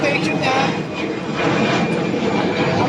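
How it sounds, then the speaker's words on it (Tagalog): A kitchen exhaust fan motor runs steadily during a test after installation, giving a continuous broadband whirring roar with no breaks, and faint voices may sit underneath. "i-testing lang namin. Pangalan pala nito, KEF, Kitchen Exhaust Fan."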